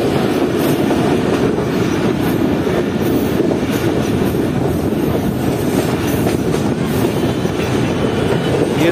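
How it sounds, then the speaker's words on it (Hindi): Pak Business Express train pulling into Raiwind Junction railway station, a loud, continuous rumble of wheels and carriages with rhythmic clatter and faint squeals, heard close from on board. "पूरे 11 बजे ट्रेन हमारी पहुंच चुकी है रावण जंक्शन रेलवे स्टेशन पर"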